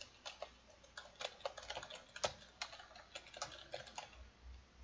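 Fingers type on a computer keyboard, a soft, irregular patter of quick plastic key clicks in short bursts and pauses. It is faint and close, with no voice over it.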